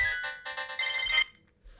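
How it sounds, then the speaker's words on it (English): A phone ringtone plays close and clear, a bright repeating electronic melody lasting about a second before cutting off into near silence. "This ringtone scares the hell out of me."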